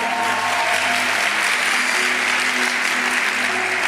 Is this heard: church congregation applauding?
yes